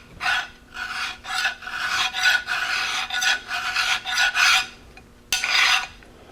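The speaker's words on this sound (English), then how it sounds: "Then I'll put the final touch using this medium coarse file, which is actually a little bit larger, and put the final few strokes on it." A medium coarse file rasps back and forth over aluminum pins in about a dozen close, rhythmic strokes, each a dry scraping sweep with short pauses between, ending with a couple of final passes.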